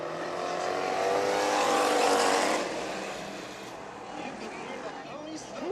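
Stock cars roar off at the start of a dirt track heat race at Bakersfield Speedway, a loud engine swell that peaks and fades as the pack moves away, with an announcer talking over it.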